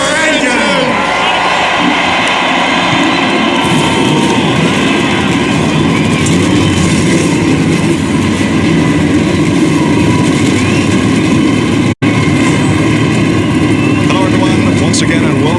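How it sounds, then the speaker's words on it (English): Many race car engines firing up together at the 2002 Pocono 500 at Pocono Raceway in Pennsylvania, a loud continuous roaring rumble with crowd noise and an announcer speaking over it. "Gentlemen, start your engines!"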